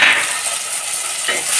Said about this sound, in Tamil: பாருங்க, தக்காளி வதங்கிடுச்சு